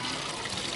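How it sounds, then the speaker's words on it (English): Water from an aquaponics siphon drains into a catch basin at the bottom of a system in Myanmar, a steady, even splashing trickle heard close up with no pauses. "the siphons just drains into the bottom"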